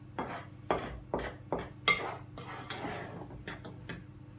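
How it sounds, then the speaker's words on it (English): A spoon stirs bread roll mix and yeast together in a bowl, giving a steady rhythm of close scraping clinks about twice a second, with no one speaking. "Then we're going to get our spoon, and we're just going to give it all a bit of a stir together"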